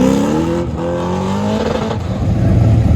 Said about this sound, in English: Mike Meyer, 1972 Corvette. He says it's a small block. I say it's an LS